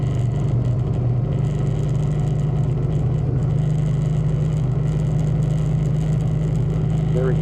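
The engine of a 2013 Suzuki Boulevard M50 motorcycle drones steadily with a low, continuous rumble mixed with wind noise while it is ridden.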